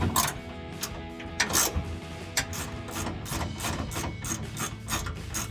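Top bolt of a Belltech Street Performance rear shock on a 2007-2018 Silverado or Sierra 1500 being tightened, giving a run of close, rapid ratcheting clicks and metal rasps with no talking.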